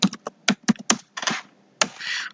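Computer keyboard keys clack in quick irregular bursts, close and crisp, a short flurry of taps followed by a pause and a longer keystroke or two.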